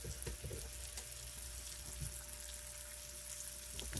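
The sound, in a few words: garlic frying in butter in pan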